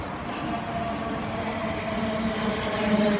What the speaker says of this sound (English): now coming into platform 4